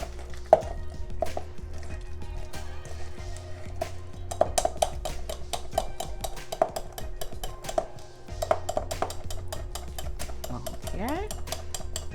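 Ripe bananas mashed by pressing them inside their peels, a run of soft squishy pushes and light clicks over a steady low hum in a home kitchen while baking banana bread.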